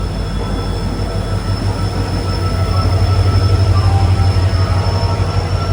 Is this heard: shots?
no